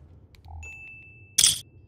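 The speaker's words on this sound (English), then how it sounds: "Fallout clink." A short metallic clink from Fallout New Vegas on entering a building: a soft tone, then a bright ringing ding that holds briefly, followed by a louder, clattering burst, all close and clear over near silence.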